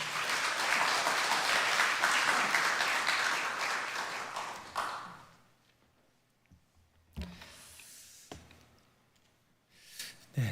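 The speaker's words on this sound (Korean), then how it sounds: "환영의 의미로 큰 박수로 맞이하겠습니다." Congregation applause in a church at a Sunday morning service, dense clapping for about five seconds that fades out, followed by quiet with a few scattered knocks and handling noises.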